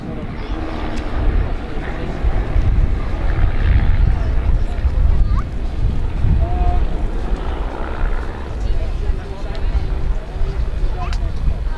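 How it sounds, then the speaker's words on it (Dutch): Propeller aircraft flying in formation at an air show climb through a left turn, a steady loud engine drone that swells and fades slightly while a commentator talks over it. "En licht optrekken en een klimmende linkerbocht."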